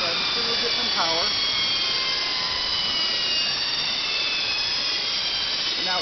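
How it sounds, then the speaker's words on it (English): Electric motor fitted with new brushes, its pressure plate and clutch removed, spinning with a steady high whine and layered tonal hum, brief voice fragments at the start and end. "how much more quickly the motor spins down to a stop now that I've removed all the weight of that pressure plate and clutch"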